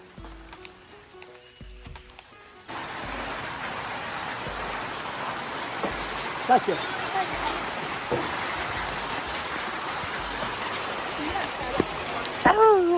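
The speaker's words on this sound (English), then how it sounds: "It's raining now." Steady rain falls outdoors during traditional corn-based food preparation, a dense broadband hiss that starts abruptly and continues loudly throughout, with voices talking over it.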